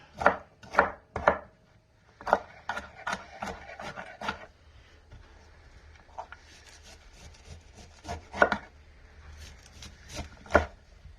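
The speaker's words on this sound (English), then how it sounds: "You just need to chop it up." A knife chops broccoli on a cutting board, with sharp, close thuds, some in quick bursts and others spaced out, and soft rubbing and scraping between the strikes.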